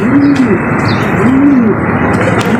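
Soft, low pigeon coos repeat in a slow rolling pattern, close by at a pigeon cage, over a steady background hiss with a few faint chirps.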